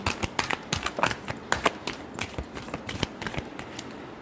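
Tarot cards shuffled by hand during a reading, a quick run of crisp, close clicks and flutters repeating in an uneven rhythm with no talk.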